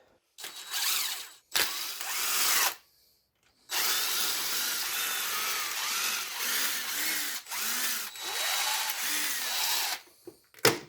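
Power tool removing Torx bolts from an Audi A4 2.0T FSI engine, several close, loud whirring bursts separated by short pauses, with a final brief burst at the end.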